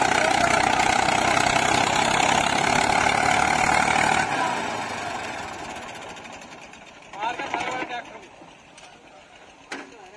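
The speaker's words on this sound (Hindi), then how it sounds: "ट्रैक्टर तो बड़ा बंद नहीं हो रहा" A farm tractor engine runs loud and steady for about four seconds, then fades to a lower rumble, with a couple of brief clattering bursts later. Voices are faintly present.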